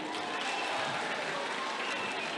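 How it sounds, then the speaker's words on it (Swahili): Audience at a Kiambu county gathering applauds its MCAs, a short burst of continuous mid-level clapping with a faint voice mixed in. "tuwapigie makofi MCS"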